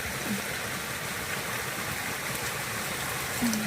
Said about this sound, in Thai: ก็เป็นน้ำไหลครับผม